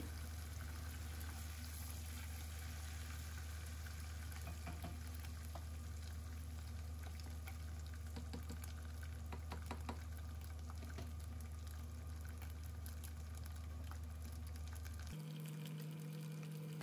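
Anchovies frying in oil with kaffir lime leaves for sambal bawang, a steady close sizzle that runs evenly and then cuts off abruptly near the end, leaving a low hum.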